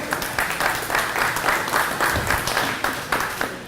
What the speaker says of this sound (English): Let's hear it for Greg.